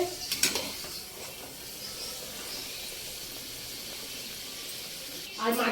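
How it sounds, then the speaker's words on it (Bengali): Luchi, a puffed fried bread, frying in hot oil in a closed-window home kitchen, giving a soft, steady sizzle with light clatter and brief voices at the start and end. "লুচিটা ভাজছি তো তেলগুলো সব উড়ে উড়ে মাথায় আসছে"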